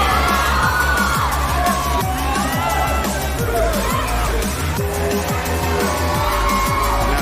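Wrestling crowd at an intergender match cheering and yelling loudly and steadily, with whoops over a dense roar, under excited commentary and ring impacts.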